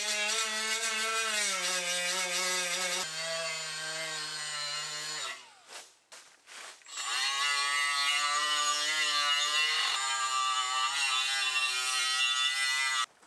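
A small polishing wheel on a power tool grinds against the rusty steel bow of a boat under restoration, a loud continuous whine that shifts pitch, briefly drops out midway, then resumes.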